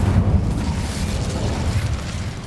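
An Incendio fire spell cast in the Hogwarts Legacy video game, heard as a loud burst of roaring, crackling flame with a heavy low rumble that carries on steadily for a couple of seconds, with no one talking.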